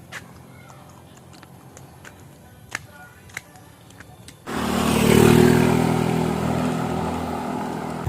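Scattered clicks and faint background sounds give way to a motorcycle engine starting up loud and close, then idling and revving at a steady roar.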